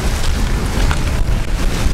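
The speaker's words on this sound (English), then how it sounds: "It's actually blowing its ass off out here, but it's really windy, really windy." Strong wind blows outdoors at the Devils Marbles near Tennant Creek, buffeting the microphone with a loud, steady roar and deep rumbling gusts.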